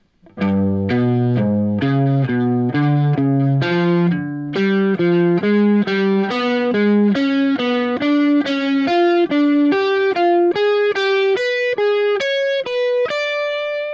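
A distorted electric guitar climbs a scale pattern in thirds and fourths, notes picked evenly and steadily rising in pitch, played alone.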